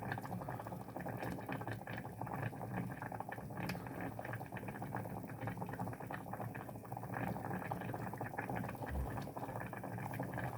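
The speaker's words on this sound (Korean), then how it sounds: "팔팔 끓여 마십니다" Water boiling vigorously in a pot, a steady dense bubbling and rolling hiss heard close and fairly quiet throughout, with no talk.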